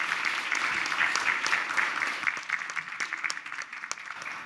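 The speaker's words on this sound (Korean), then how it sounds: "문영명 목사님 올라오실 때 뜨거운 박수로 한번 격려해 주시고 환영해 주시면 감사하겠습니다" A church congregation claps warmly to welcome a pastor to the stage at a Sunday service, full applause that thins out toward the end into scattered individual claps.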